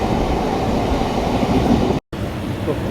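A train runs along steadily with a continuous rumbling rail roar, heard from inside the moving train, with one brief dropout near the end.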